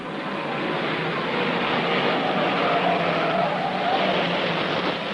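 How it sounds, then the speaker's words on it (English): Race cars at the 1958 Argentine Grand Prix roar past in a loud, continuous engine drone that swells and fades slightly, heard as a broad, rough mechanical noise. "the race is coming now closer and closer to the checkered flag, and Bryan is really turning it on"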